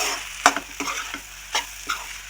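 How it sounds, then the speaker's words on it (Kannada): Okra and egg fry in a pan, a soft sizzle broken by several sharp scraping clicks of a spatula stirring, close up and without talk. "ನೋಡಿ ಫ್ರೈ ಆಗ್ತಿದೆ, ನೀಟಾಗಿ ಹಿಂಗೆ ಕರ್ಕೋಬೇಕು ಅದನ್ನು"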